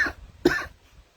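A single close, sharp cough from someone still bothered by a lingering cough after COVID, one strong burst followed by a shorter second hack, then quiet room tone.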